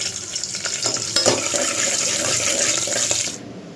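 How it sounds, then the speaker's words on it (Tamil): Pepper and cumin fry in hot oil in a pressure cooker, making a continuous bright sizzling hiss with faint stirring scrapes. The sound cuts off just before the end. "இது குக்கரில் எண்ணெய் ஊற்றிட்டு மிளகு சீரகத்தை வந்து சேர்த்துக்கலாம்."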